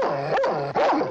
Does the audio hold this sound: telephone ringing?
no